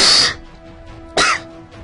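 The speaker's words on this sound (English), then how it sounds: "I realized I just coughed" Two short, sharp coughs from one person, close and loud, the first at the start and the second about a second later, with a faint steady hum between them.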